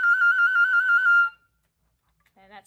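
A flute trills rapidly on a high F, one bright wavering sustained tone for just over a second before cutting off, followed by a short silence and a brief voice at the end.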